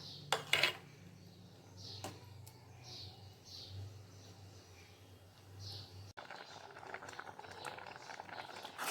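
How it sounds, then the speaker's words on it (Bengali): Cabbage payesh, a milk pudding with cashews and raisins, simmering in a pot on a gas stove: soft, quiet bubbling with a low hum and a few faint clinks, then a brighter, busier simmer near the end. "এখন আবার কিছু সময় ভালো মতন ফুটিয়ে জাল করে নেব।"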